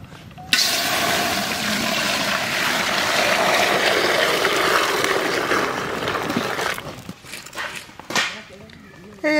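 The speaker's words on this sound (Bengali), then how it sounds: "দুধ ঢেলে দেবো" Milk is poured into a hot pot for payesh in a loud, continuous gushing rush lasting several seconds, then stops, leaving a few clinks and soft sounds.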